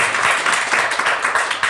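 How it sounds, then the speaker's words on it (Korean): Congregation applauding during a church worship service, a dense continuous patter of many hands, fairly loud and filling the room without talk. "두 분들을 위해서 우리 박수 한번 쳐드릴까요?"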